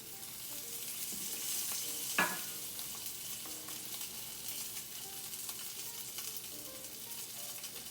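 A salmon fillet sears skin side down with oil in a hot skillet, a faint, steady sizzle and crackle throughout, broken by one brief clatter near the start.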